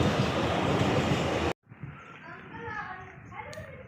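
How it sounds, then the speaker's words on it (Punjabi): A loud, close rush of a passing train roars for a moment, then cuts off, leaving people talking and children's voices. "ਸਿੱਧੂ ਦੇਖੋ ਜਦੋਂ ਵੀ ਕੋਈ ਟ੍ਰੇਨ ਜਾਂਦੀ ਹੈ ਨਾ ਉਹਨਾਂ ਨੂੰ ਬਾਏ ਕਰਨ ਲੱਗ ਜਾਂਦੇ"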